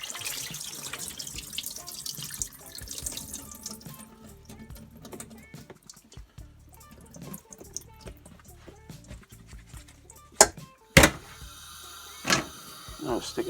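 Water runs and splashes steadily from a tap over leeks in a colander in a sink, with a few sharp clunks and knocks near the end.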